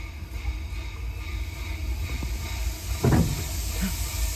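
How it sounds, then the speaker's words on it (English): A soft burst of hissing air releases amid a steady low rumble, like brakes letting go on a stationary train. "I hear the brakes releasing and we are off."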